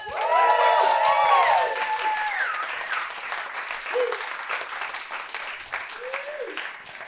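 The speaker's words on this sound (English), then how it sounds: "I want you all to give an applause to Dean Smusko." Audience at an open mic night applauds in a small room, a loud burst of clapping that gradually thins out, with shouted whoops and voices over it at the start.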